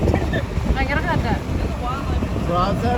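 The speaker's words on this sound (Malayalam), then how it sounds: "ഭയങ്കര കാറ്റാ" Strong cold wind buffets the microphone on a mountain outing beside a roller coaster, a loud continuous roar with gusty rumble throughout, while voices speak partly under it.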